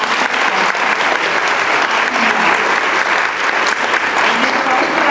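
Loud, sustained applause from the audience at a regional spelling bee for the competing champions, with dense, even clapping for the whole stretch.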